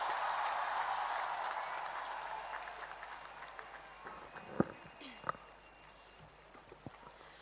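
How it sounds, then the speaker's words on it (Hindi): Faint applause in a large hall welcomes Olympic medal winner PV Sindhu at a medal winners' honouring ceremony in Lucknow, a soft, steady clapping that fades away, with a few sharp knocks near the end. "तालियों से स्वागत।"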